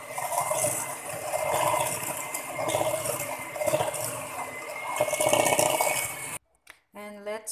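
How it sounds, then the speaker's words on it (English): Banana choco raisin bread mixture being whisked in a bowl, a steady, busy metallic scraping and clatter with rhythmic swells for about six seconds, then cut off by a short stretch of speech at the end. "So we have to whisk it and completely combine"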